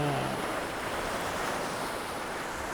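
Ocean waves crash steadily against the Madeira shore at high tide under stormy skies, a loud, continuous roar of surf with wind noise buffeting the microphone and no voices.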